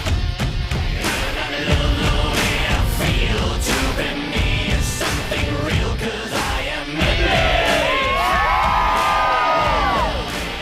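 Huge crowd of over 300,000 at the Indianapolis 500 cheering and roaring steadily, with whoops and shouts rising above a dense, loud wall of noise throughout.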